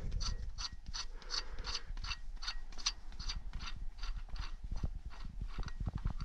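Ratchet wrench loosening the camshaft bolt on a broken-down car engine during timing-belt work, a rapid, steady series of close metallic clicks repeating throughout, with no talk.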